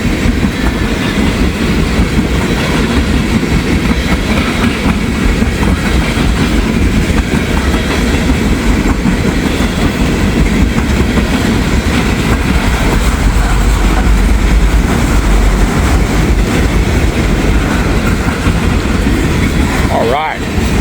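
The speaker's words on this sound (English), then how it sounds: "Lots of empty ethanol cars on this train." A freight train of empty ethanol tank cars rolls steadily past at close range, a loud continuous rumble with rail clatter throughout, no one speaking.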